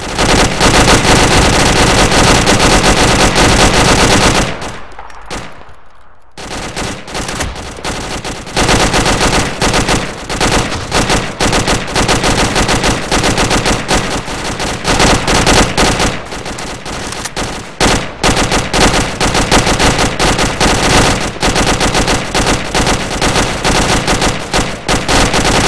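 Sustained, loud bursts of machine gun fire on a field range, rapid and continuous with a brief pause around five seconds before the firing resumes and carries on to the end.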